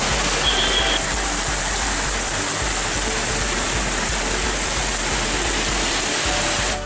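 Heavy rain pours over town streets in Thoothukudi, a dense, steady roar of falling water that stays loud and unbroken from start to finish with no voices.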